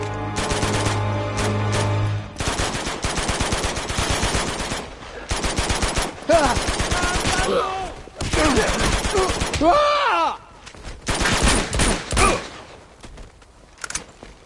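Gunfire in Uncharted 2: Among Thieves Remastered: loud, sustained bursts of rapid automatic shots that pause briefly and resume, with occasional grunts and voices mixed in.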